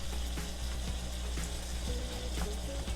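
Ground meat, about a pound, browning in a pan for chili without beans, giving a steady close sizzle and crackle with light stirring scrapes throughout, no voices.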